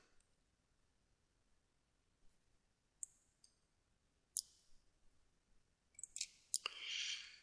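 Computer mouse clicks on a map website, a few sharp isolated taps spaced out, then a quicker cluster near the end, quiet and close with no talking.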